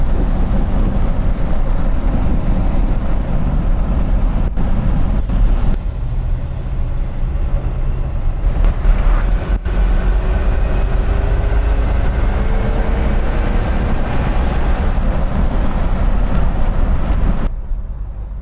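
A 1956 Packard Patrician engine drones low and steady from inside the car during a test drive, a continuous loud rumble with a few brief shifts in tone and no talking.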